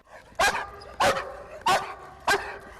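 A German shepherd police dog barks four times in an even rhythm, each bark sharp and loud, spaced about half a second apart, with no speech.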